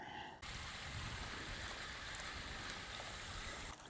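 Water poured out of a gold pan while rinsing material from an 1850s can, a sudden steady gushing splash that starts after a brief pause and runs on evenly, fairly close.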